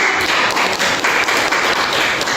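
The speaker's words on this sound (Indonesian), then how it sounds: "tepuk tangan Bu" Teachers applauding in a group session, loud close clapping with distinct rapid claps running steadily through the short stretch.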